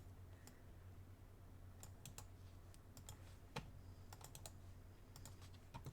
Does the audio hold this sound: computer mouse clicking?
yes